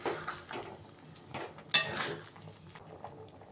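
A spoon scrapes and clinks against a metal pot of vegetables in a few quiet strokes, with one sharper clank near the middle.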